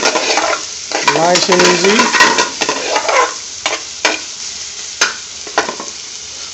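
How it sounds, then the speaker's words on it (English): Onion sizzles in a hot frying pan for an Indian restaurant-style spinach and cheese dish, with stirring scrapes and a crackling fry. Someone speaks briefly at the start, then the sizzle continues with occasional utensil knocks. "Can you hear the sizzling going on?"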